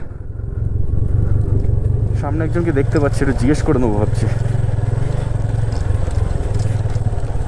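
A motorcycle engine drones steadily and close by throughout while it rides a rough off-road track with a scraping silencer pipe; someone talks over it partway through.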